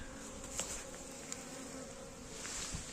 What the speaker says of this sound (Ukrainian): бджілки там присутні, як видно, жужжать